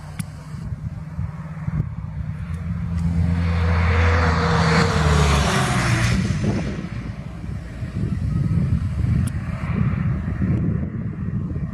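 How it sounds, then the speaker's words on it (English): A Boeing 747 jet flies extremely low over a runway beside freshly laid sod, its broad engine roar swelling loud as it passes close and then fading into a lingering rumble, with no one speaking. "The runway recently had new sod put down next to it, and that was no match for the powerful 747."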